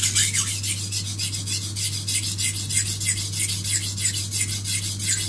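Knife blade drawn repeatedly across a coarse sharpening stone, a steady rhythmic rasping of back-and-forth strokes, close and continuous, with a low steady hum underneath.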